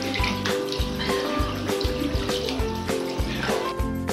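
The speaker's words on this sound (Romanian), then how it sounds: "Va spăla foarte bine pe față cu apă caldă și săpun." Warm water runs from a tap and splashes as a face is washed with soap, a steady trickle broken by rhythmic splashing and rubbing, close and fairly loud with no talking.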